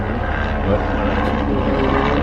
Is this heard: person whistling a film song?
no